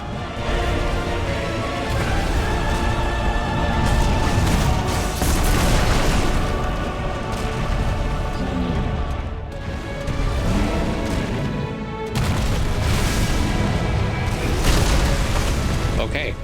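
Ifrit's Brimstone attack explodes in Final Fantasy 16, a dense run of loud booms, crashes and bursts layered over game music, with a player talking throughout.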